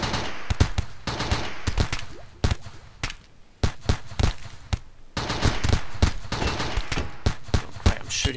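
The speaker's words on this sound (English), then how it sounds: "Oh, great, I'm shooting my own solar panels." Colonists in the video game RimWorld fire guns in rapid, irregular bursts of sharp cracks, clustering into fast volleys with short lulls between them.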